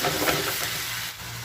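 A paste of ginger, garlic, mustard seed and cumin sizzles in hot oil in a pan, a steady close frying hiss with faint stirring, no voices.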